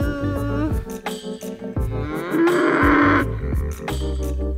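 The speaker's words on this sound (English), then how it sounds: "Let's go check out the cows." Cattle on a farm in Northland, New Zealand lowing repeatedly, several loud, drawn-out moos close by in quick succession with short gaps between calls.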